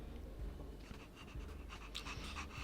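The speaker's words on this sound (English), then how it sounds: "What a cute doggy!" A dog pants in the game Honkai Star Rail, quick rhythmic breaths with soft low thumps, faint and close, repeating steadily through the short stretch without speech.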